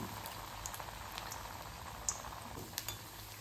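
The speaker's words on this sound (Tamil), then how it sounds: "இப்போ நம்ம எண்ணெயில் போட்டு பொரிச்சிடலாம்." Paruppu vadai fry in hot oil in a kadai, giving a faint, steady bubbling hiss broken by a few small pops and crackles, with no one talking.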